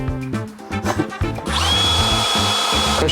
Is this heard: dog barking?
no